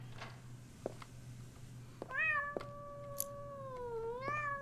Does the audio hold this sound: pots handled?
no